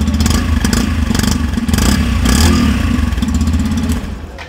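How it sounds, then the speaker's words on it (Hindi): Close-up Yamaha FZ-Fi V3 150cc motorcycle engine being blipped several times, the exhaust rising in short revs over a low idling thump before easing back down near the end; no voices. "अब थोड़ा सा रेव करता हूं।"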